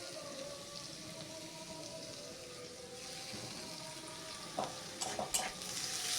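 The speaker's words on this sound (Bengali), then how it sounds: "এরপর আলুর সাথে টমেটোটাকে আর কিছুক্ষণ ভালো করে নাড়াচাড়া করে নেব।" Potatoes with chopped tomato stirred while frying in a pan, a steady broadband sizzle running throughout with louder scraping and clattering stir strokes near the end.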